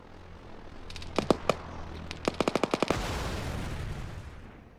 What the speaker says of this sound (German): ja. Eine Drohne, oder?